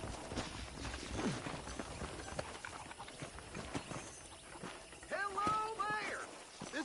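Steady clip-clop of horse hooves in the Western video game Red Dead Redemption on PS5, moderately loud and rhythmic, with a voice speaking over the later part.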